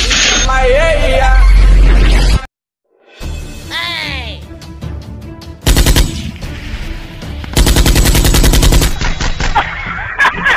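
A loud machine gun sound effect blasts from a portable speaker during a public prank, with long rapid bursts of gunfire cutting in after a brief silence, mixed with shouting and excited voices nearby.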